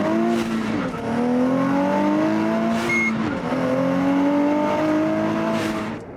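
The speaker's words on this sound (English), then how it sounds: "To me, the sound is kind of halfway between a 370Z and an R35 GTR." A Nissan Z with an upgraded exhaust drives on the street, its engine rising steadily through the revs in repeated pulls, loud and close, with brief drops at the gear changes.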